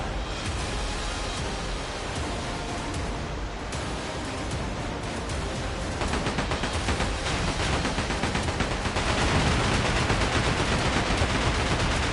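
Booming naval cannon barrages from a pirate ship battle in Like A Dragon: Pirate Yakuza, a dense, continuous roar of overlapping blasts and noisy rumble that swells louder toward the end.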